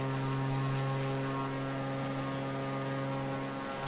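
Propeller airplane engine in Microsoft Flight Simulator 2020 drones as a steady, strongly tonal hum, loud and constant with no voices, the plane flying low over the Indianapolis Motor Speedway.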